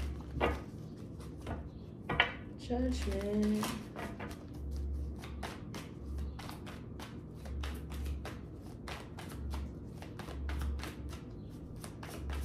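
Tarot cards being shuffled by hand, giving repeated soft riffling and tapping sounds in an irregular rhythm, with a brief rustling flurry and a faint low hum, quiet and close.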